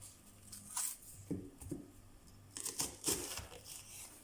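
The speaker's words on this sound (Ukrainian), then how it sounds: "Розрізаємо її на четвертинки" A knife cuts an onion into quarters on a board for processed cheese soup, giving a few quiet, crisp crunches and slices in short clusters with pauses between.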